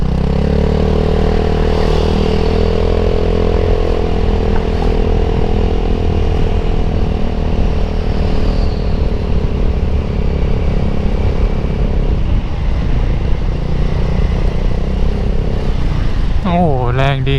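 A Vespa GT270 scooter with the DZ3 engine rides along, its engine droning steadily and loud close up, then revving sharply near the end.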